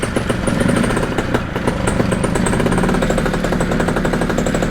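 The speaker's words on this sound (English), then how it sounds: "right now I am facing the motor. About a quarter throttle right now." A model aircraft's propeller engine runs steadily at about a quarter throttle, a loud, continuous buzzing drone with a fast pulsing texture, close to the mic for the whole stretch with no talking.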